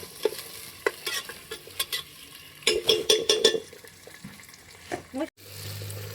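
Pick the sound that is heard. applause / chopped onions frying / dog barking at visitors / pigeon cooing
chopped onions frying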